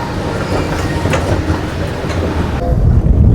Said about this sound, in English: Jump on the monorail, not jump on it, but get on the monorail and move over to the next spot.